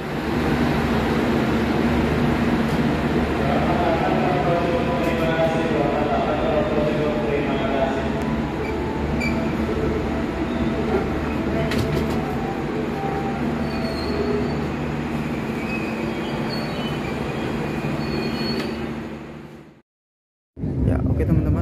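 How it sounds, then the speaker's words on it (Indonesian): Sri Tanjung passenger train pulling out of Lempuyangan station in Yogyakarta, a loud continuous rumble of rolling wagons with squealing wheels throughout, cutting off abruptly near the end before resuming briefly. "tepat pada pukul 7:20 kereta api Sri Tanjung diberangkatkan dari stasiun Lempuyangan Yogyakarta"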